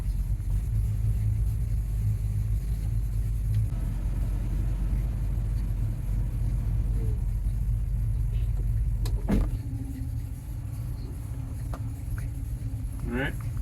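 A Ford Mustang's carbureted engine idles with a steady low rumble, loud and close, running on a first drive after decades off the road, while voices talk over it and a few clicks and small mechanical noises come through.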